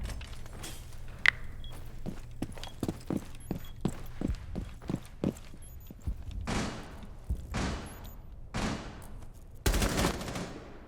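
Bursts of gunfire from a video game gunfight, a rapid run of sharp separate shots followed by several longer, louder volleys toward the end, with soft footstep-like thuds underneath and no talking.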